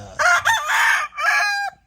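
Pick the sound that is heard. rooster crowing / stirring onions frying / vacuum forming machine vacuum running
rooster crowing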